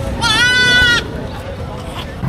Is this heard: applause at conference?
no